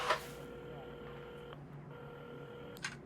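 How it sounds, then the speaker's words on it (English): A telephone being dialed in the mobile video game Assemble with Care gives short electronic tones with gaps between them, clear and close. "Carmen had started dialing the phone"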